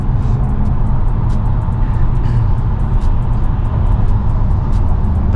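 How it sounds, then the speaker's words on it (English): Lunchtime traffic on the N3 highway heard from inside a moving Lumina SS, a steady loud rumble of cars and trucks with road noise and passing vehicles, no talk. "It's like, this is lunchtime traffic"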